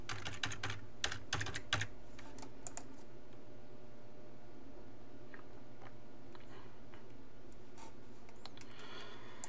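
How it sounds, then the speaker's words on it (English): Quick bursts of keystrokes on a computer keyboard as an email and password are typed, brisk clicking in the first two seconds then scattered faint taps over a quiet room hum. "I need to type my email again and password."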